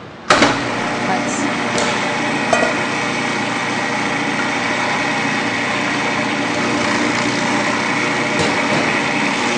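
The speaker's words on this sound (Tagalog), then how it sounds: "So ngayon na po, lalagay natin siya sa silent cutter." A silent cutter machine runs while grinding knifefish meat: a sharp start thump, then a loud, steady high-pitched motor whir with a few early clunks, continuous and close for the whole stretch.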